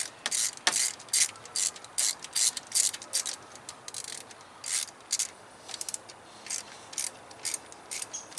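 Hand ratchet tightening thermostat bolts on a 2013 Dodge Charger 5.7 Hemi engine, a steady series of close, crisp clicking strokes in quick rhythmic bursts.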